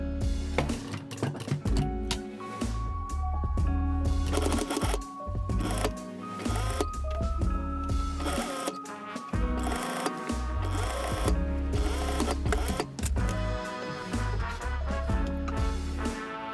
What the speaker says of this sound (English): You stitch on the seam line, which will be right in the middle of the overlap.